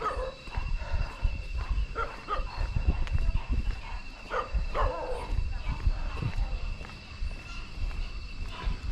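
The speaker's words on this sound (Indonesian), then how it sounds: "di situ ada anjing menggonggong terus ya teman-teman ya" A dog on a bridge in Bali barks over and over in a continuous run of sharp yips and barks, mixed with footsteps and outdoor background noise, and occasional faint voices.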